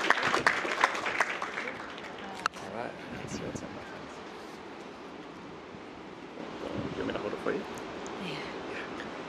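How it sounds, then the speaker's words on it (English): Wedding guests clap outdoors at a ceremony after the vows, a loose burst of applause that is strongest early and then thins into wind and murmured talk. "can we get a round of applause"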